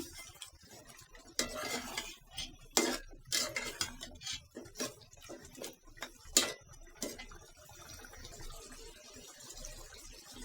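Metal spoon scraping and knocking in a pot while beef is cooked with cumin and coriander powder for a lentil dish, giving irregular clinks and scrapes at close range, alone without talk.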